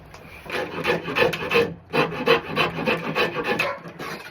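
A rasp shaping a wooden axe handle, with repeated rough scraping strokes in a steady back-and-forth rhythm, close and clear with no talking.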